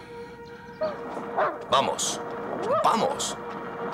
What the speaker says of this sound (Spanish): Ese es el perro.